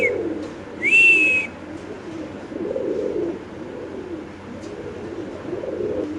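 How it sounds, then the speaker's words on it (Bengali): A male Royal Tumbler pigeon coos in low, repeated throaty pulses nearby, and a single short whistle-like note cuts in near the start. The coos are moderately loud and heard alone without talk. "কবুতরের ডাকটা দেখা দিই।"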